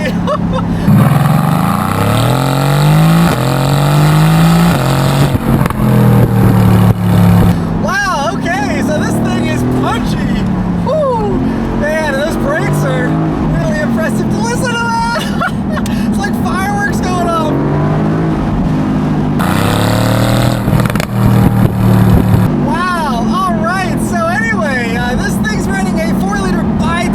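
A 2018 Mercedes-AMG GT C Roadster accelerating hard in Sport Plus mode, the engine rising in pitch through repeated gear changes, loud and sustained from inside the car, with someone talking over it.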